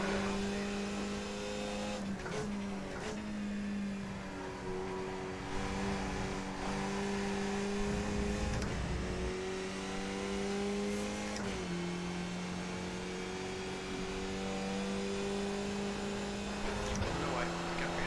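Race car engine in the iRacing video game, a sustained high revving drone that shifts pitch as gears change, with brief tire noise, while someone talks over it.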